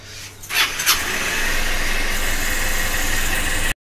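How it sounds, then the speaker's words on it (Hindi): A car engine cranks and catches, then settles into a steady, close idle hum that continues unbroken to the end, with no voices. "ये खड़ी अपनी गाड़ी, जल्दी इसको स्टार्ट कर दी भाई।"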